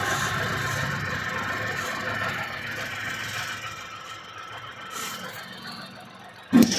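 A Tata Nexon facelift engine idles with a low, fairly faint steady hum heard near the engine bay, ending with a sharp knock or thump.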